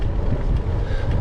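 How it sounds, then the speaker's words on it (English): Strong crosswind buffets a cyclist's microphone on an open road, a loud, continuous low rumble throughout. "The wind hasn't quite moved fully behind me"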